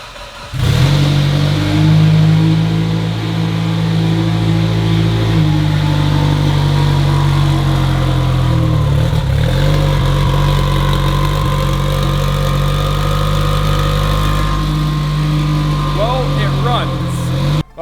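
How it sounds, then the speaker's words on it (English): A modified 800 whp Mitsubishi Evo 8 engine starts and runs rough: a loud, close, uneven idle with wavering pitch and a rev near the middle, sustained nearly throughout. "we got the car runs, but now we're running into an issue where it runs horrible"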